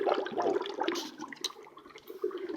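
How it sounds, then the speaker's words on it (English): A big chunk of dry ice fizzes and bubbles in water, a close, burbling gurgle of irregular pops and splashy rushes that rise and fall over a couple of seconds. "Put in your dry ice."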